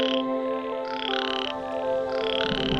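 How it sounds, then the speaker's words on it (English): Frogs croak loudly in repeated rhythmic bursts as the first monsoon rain arrives, a close, dense chorus with no voices. "Croaking loudly as if to announce the arrival of the first monsoon rain."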